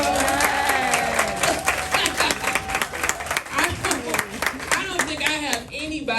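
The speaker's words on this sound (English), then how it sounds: "Give them a round of applause, y'all." Crowd at a pop-up shop giving a round of applause for the team, dense clapping with cheering and voices mixed in, loud and sustained throughout.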